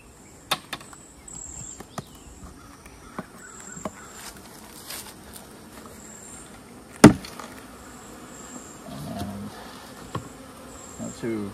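Honey bees buzzing at a hive during an early inspection, with a full-size deep hive being set in place. The buzzing is a faint, steady drone under scattered knocks and clunks of handling, including one sharp thump.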